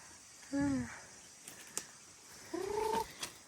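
A couple of short clucking calls from a chicken, close by, with quieter rustling and faint clicks in between.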